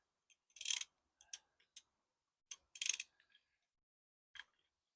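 A ratchet on a 5/8 deep-well spark plug socket with a 1/2-inch drive loosens boat engine spark plugs, giving quiet, separate clicking bursts in short irregular groups with silence between them and no talk.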